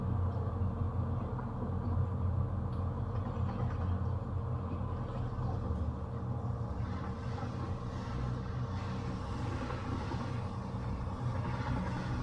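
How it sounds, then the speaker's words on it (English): A train runs in the game Satisfactory as a steady mechanical rumble and hum. It rolls along at an even level, with a faint hiss rising partway through and no talk. "Look at that train going somewhere happily."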